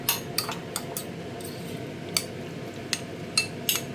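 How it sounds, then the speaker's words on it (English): A spoon scrapes and clinks against a bowl while stirring vegan tofu egg mayo salad with tomatoes, making sparse, light metallic taps spread across a few seconds over a low background hum. "So I'm just going to give that a stir now"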